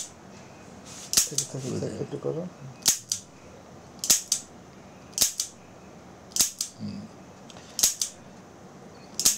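A very small personal revolver gives a series of sharp, crisp mechanical clicks at irregular intervals, about seven in all, close and clear, as the cylinder is turned, with someone talking softly between them.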